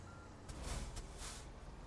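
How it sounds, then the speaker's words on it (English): Two quick high-pitched beeps over a low engine rumble, spaced about half a second apart, fairly faint, from a truck reversing alarm in American Truck Simulator. "Let me back it up and let's get this truck ready"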